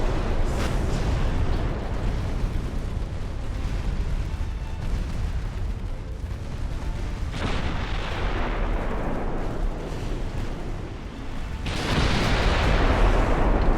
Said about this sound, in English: Shit, torpedo inbound.